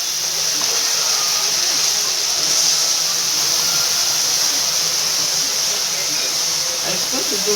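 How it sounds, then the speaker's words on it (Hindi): Milk hits a hot pan of browned, roasted food and sets off a continuous loud hiss and sizzle that holds steady throughout, close up, with no voice over it. "अब हम इसके अंदर दूध डालेंगे।"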